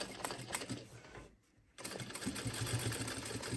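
A sewing machine stitches a shopper bag in fast, rhythmic mechanical bursts close by, pausing briefly in the middle before running on steadily.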